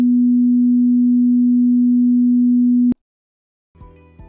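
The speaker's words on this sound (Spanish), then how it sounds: "Así suenan los 250 Hz." A 250 Hz pure sine test tone, a loud steady low hum held for about three seconds before cutting off abruptly, followed by silence and some faint unrelated sound.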